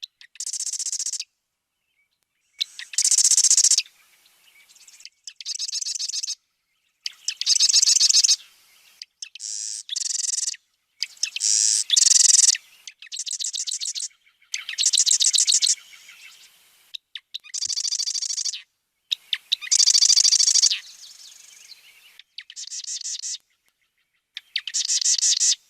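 Two birds counter-singing, trading matching high, buzzy song phrases back and forth in a steady alternating rhythm, each burst separated by brief silence, clear and fairly close with no talking.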